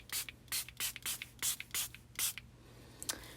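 A spray bottle is pumped repeatedly, about nine short hissing bursts in quick, even rhythm, close and fairly quiet, with no talking.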